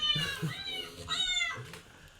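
A house cat meows at a birthday greeting, giving three clear meows spaced about half a second apart, close and moderately loud, with faint background sounds between them.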